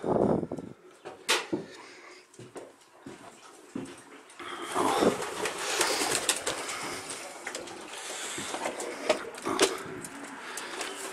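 Racing pigeons cooing softly nearby at a loft after a flight, with wing flutters and scuffling, a dog whimpering in the background; no clear talk.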